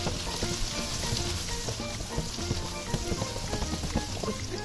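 Ginger-garlic paste fries in hot oil for a Bengali-style chicken roast curry, giving a dense, steady crackling sizzle up close with scattered pops and light stirring clinks throughout, and no talking.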